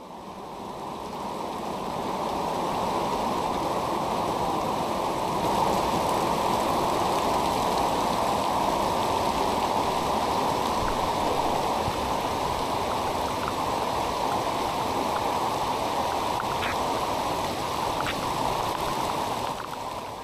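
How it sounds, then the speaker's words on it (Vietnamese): Heavy rainstorm pouring down around a flooded market area in Vietnam, with water lying 60 to 70 cm deep; a dense, steady roar of rain and rushing water holds loud and constant throughout, with no talking. "Cảnh mưa bão như thế này"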